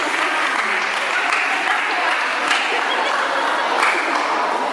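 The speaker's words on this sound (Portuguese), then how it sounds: "Uma salva de palmas" Sustained, dense applause from a crowd at a youth centre's year-end celebration in 2012, welcoming a man named Rodrigo, filling the whole stretch at steady loudness with no talk over it.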